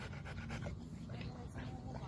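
A dog pants rapidly and steadily up close, quick breathy huffs repeating throughout, with muffled voices faintly in the background.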